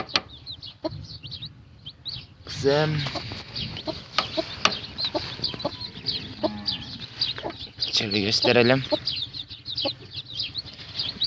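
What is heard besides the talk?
hen with chicks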